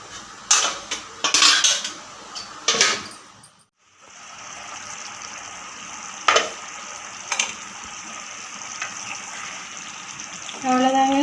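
Metal spoon scraping and clanking in a pot of mushroom and potato kulambu as water is stirred in, several sharp clatters then a quieter simmering stretch, with a final burst of stirring.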